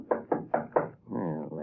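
Four firm, evenly spaced knocks strike a wooden back door in an old radio drama, close and loud, followed at once by someone speaking.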